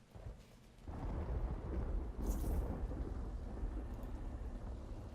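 Rainfall and a low thunder roll in the game Myst Uru, starting quiet, then swelling into a steady wash of rain with a brief crackle partway through.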